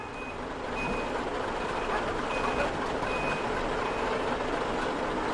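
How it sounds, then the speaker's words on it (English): A milk truck backs up in a farmyard, its reversing alarm beeping in an even, repeated rhythm over a steady low engine rumble, moderately near. ""What on earth is that?" exclaimed Tec. It was the milk truck."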